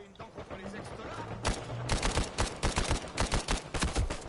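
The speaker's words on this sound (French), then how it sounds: "Ah, c'est un sniper." Gunfire in an Uncharted 4 online multiplayer match, with a burst of sharp shots followed by a dense run of rapid cracks. A voice is faintly heard under the game sounds.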